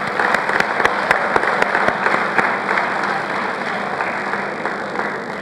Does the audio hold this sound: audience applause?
yes